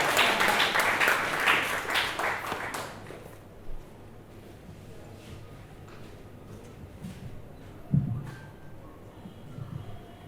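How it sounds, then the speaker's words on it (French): An audience at a slam poetry show gives a burst of dense clapping that lasts about three seconds and then stops abruptly. Afterward only scattered claps, taps and room noise remain, with a sharp knock near the eight-second mark. "On applaudit pour celui qui vient."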